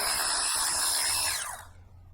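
An electric ratchet spins out an ignition coil bolt on a Toyota Camry, making a close, high, buzzing whir that runs for about a second and a half before it winds down and stops.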